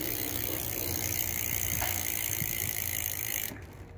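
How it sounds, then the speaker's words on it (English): E-bike sprockets and cassette clicking and whirring while riding, a steady close mechanical buzz under wind rumble that drops off abruptly near the end. "You just hear the sprockets or the cassette going hard."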